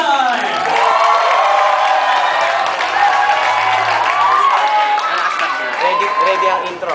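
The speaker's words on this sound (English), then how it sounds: "please give a warm round of applause to BM111" Audience at a school speech choir presentation cheering and applauding loudly and continuously, with whoops and shouts over sustained clapping throughout.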